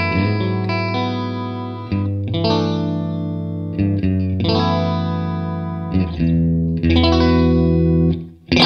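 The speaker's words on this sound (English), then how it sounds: "let's switch over to the Lexicon again and pick the shortest decay time, which is almost, it's barely noticeable" Electric guitar played through a Lexicon-style reverb set to its shortest decay, sustained chords and notes ringing loud and close with only a slight ambient halo, several phrases over about nine seconds.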